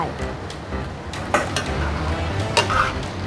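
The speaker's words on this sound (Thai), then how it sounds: "ใส่เส้นลงไป ผัดให้เข้ากัน" Blanched rice vermicelli being stir-fried in a pan for vegetarian mee sua, with a steady scraping, rustling churn and a few sharp clinks of the utensil against the metal, close and moderately loud.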